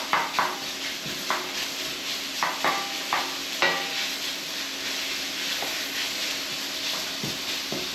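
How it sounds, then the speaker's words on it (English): Pork belly sizzles steadily in a wok, a continuous hiss of frying fat broken by scattered clicks and scrapes as the slices are spread across the pan. "I need to cook this pork off for about 3 or 4 minutes."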